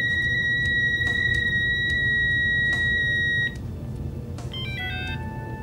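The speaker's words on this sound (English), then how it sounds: "A falling tone will sound when the transmission is complete." A falling electronic tone marks a completed TTM transmission sent over a phone line with a black box. It comes as a short stepped sequence of descending beeps near the end, after a long steady two-tone signal over a low background hum.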